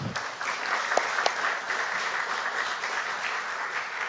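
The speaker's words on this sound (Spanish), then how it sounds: "Pido un fuerte aplauso para los expositores, por favor." Audience at a Peruvian conference on economic and political freedoms gives the speakers loud, continuous applause, a dense even roar of clapping close by, with no talk over it.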